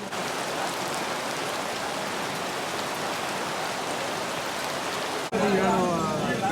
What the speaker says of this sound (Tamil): அந்த மழையோட சத்தம் கேட்குறப்போ ரொம்ப பயமாகவே இருந்தது